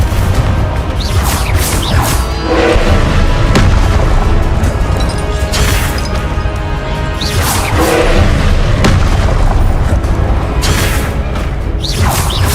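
Repeated loud booms from the fiery Confringo spell explosions in Hogwarts Legacy, heavy blasts landing every couple of seconds over a continuous rumbling game soundscape.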